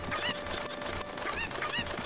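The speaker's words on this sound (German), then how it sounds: "Da haben wir da schon mal eins, zwei Hühner." Chickens clucking in a Zelda Ocarina of Time hack video game, several short repeated squawks over looping game music, clear and close.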